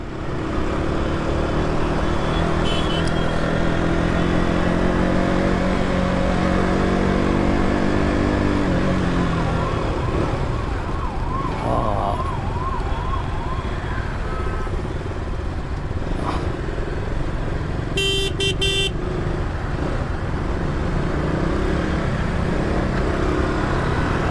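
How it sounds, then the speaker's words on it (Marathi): A motorbike rides through morning traffic in Mumbai, with a loud continuous engine drone and road rumble, a rising and falling engine tone, a brief siren-like wail, and a short burst of horn near the end. "मॉर्निंग राईड आणि पहिलीच आपली मुंबईची ट्रॅफिक."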